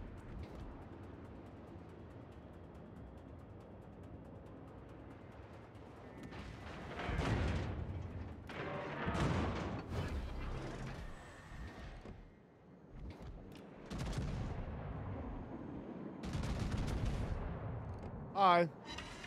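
Secondary battery guns firing aboard a warship in World of Warships, heard as bursts of booming shots between about 6 and 18 seconds, with a loud sharp crack near the end, under excited talk.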